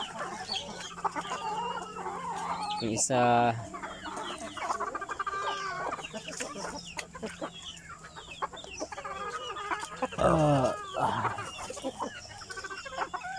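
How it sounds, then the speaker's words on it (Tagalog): Several chickens fight, clucking and squawking in agitated bursts, with flurries of scuffling and a brief spoken word amid the noisy flock. "Yan guys, ganyan karami yung manok dito. Ayun, nagsasabong na."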